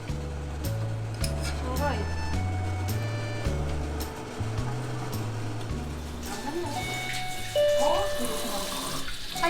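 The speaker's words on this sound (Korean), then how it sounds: "엄마 손 씻어." Water runs steadily from a home tap into a sink while hands are washed, a continuous splashing hiss under voices talking nearby.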